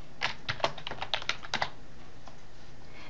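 Keys tapped on a computer keyboard while entering a menu label, a quick burst of about a dozen close, crisp clicks in the first half, then quiet.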